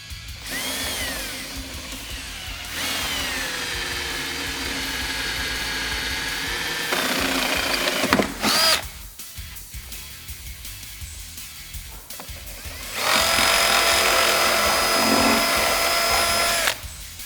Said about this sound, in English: So we've drilled our hole all the way through.